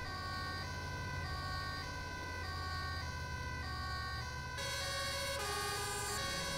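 An ambulance siren from a video game EMS mod wails continuously in steady repeating tones, shifting pattern partway through, over a constant engine drone.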